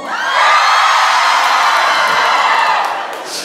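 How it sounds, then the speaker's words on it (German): A crowd of women in a theatre audience screams and shrieks hysterically, a loud sustained wall of high-pitched cheering and whooping that swells quickly and holds steady for a few seconds before easing slightly. "die Spielerfrauen, die mit hysterischem Geschrei antworten"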